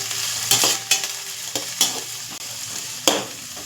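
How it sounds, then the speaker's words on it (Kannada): Chopped capsicum, onion and garlic roasting in a hot pan for baby corn manchurian sizzle steadily, broken by several sharp spatula scrapes and knocks at irregular intervals, close and without talk. "ಕ್ಯಾಪ್ಸಿಕಮ್ಮು, ಈರುಳ್ಳಿ ಹಾಕ್ಕೊಂಡು ಸ್ವಲ್ಪ ರೋಸ್ಟ್ ಮಾಡ್ಕೊಳ್ಳೋಣ."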